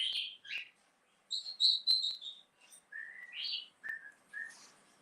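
Pet cockatiels whistling a series of short, bright melodic phrases and chirps, close and clear, separated by brief pauses with no voices.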